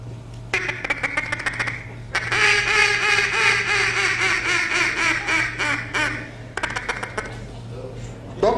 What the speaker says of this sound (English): we have a duck call here